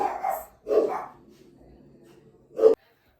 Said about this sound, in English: I'm sorry about all the dogs barking.